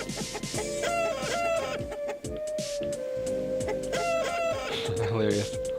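Chickens cluck and squawk in the video game Memories of Elefee, several birds in quick overlapping calls over game music and tones, with a voice talking partway through.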